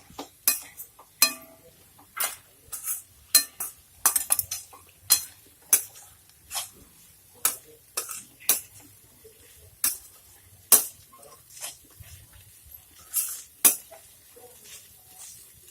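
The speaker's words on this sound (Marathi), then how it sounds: "आता पुन्हा गॅस चालू करते मी आणि ते पोहे मस्त परतून घेते" A spatula scrapes and clinks against a pan in irregular strokes while poha is stirred, with faint low sizzling underneath.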